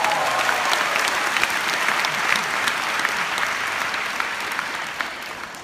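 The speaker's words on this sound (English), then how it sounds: "Give yourself a big round of applause." A large crowd at a KL Jeunesse event gives a long, loud round of applause, dense steady clapping that fades slightly toward the end.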